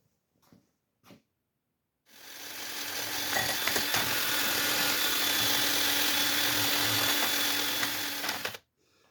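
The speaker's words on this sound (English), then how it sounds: "I'm gonna get the wire wheel and I'm gonna clean some of that up" A power wire wheel grinds and whirs continuously against a Chevy squarebody brake caliper for about six seconds, close and loud, after a couple of short taps.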